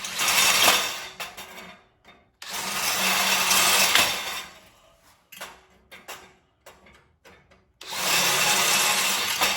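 A power drill enlarges holes to rivet size on a Harbor Freight motorcycle carrier being modified into an e-bike hauler. It whines in three long, loud bursts close by, with short clicks and handling noises between them.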